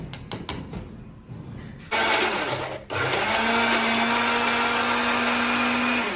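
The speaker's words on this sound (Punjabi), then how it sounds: "ਮਿਰਚਾਂ ਅਦਰਕ ਲਸਣ ਜਿਹੜਾ ਅਸੀਂ ਭਿਉਂ ਕੇ ਰੱਖਿਆ ਇਹਨੂੰ ਅਸੀਂ ਗ੍ਰਾਈਂਡ ਕਰਾਂਗੇ।" Electric kitchen grinder whirring loudly as it blends soaked chilies, ginger and garlic, with a few rattling starts before the motor settles into a steady, sustained high-speed drone that runs to the end.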